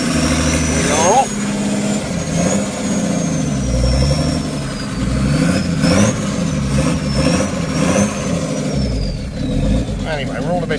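A Volkswagen LT van with a 603 engine runs steadily close by with a low rumble, rising slightly as it pulls away in third gear, while a person talks over it.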